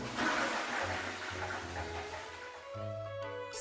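A toilet flushes close by in a steady gush of rushing water, then settles into a hissing refill with a faint hum.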